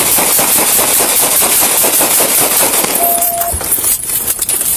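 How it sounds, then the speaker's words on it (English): Gunfire in a police shootout recorded on a bodycam comes as a loud, dense rapid string of shots over a noisy scene, fading toward the end. "shots fired, shots fired, shots fired"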